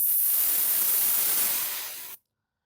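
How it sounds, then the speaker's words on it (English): Air escaping from a tire valve as a flathead screwdriver presses the valve pin: one steady, close, loud hiss that lasts about two seconds and then stops abruptly. "That will release some air."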